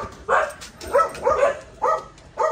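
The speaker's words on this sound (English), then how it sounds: "There's doggies right there, they're gonna scare you." Several dogs bark in short, repeated bursts nearby, a loose rhythm of four or five woofs with brief gaps between them.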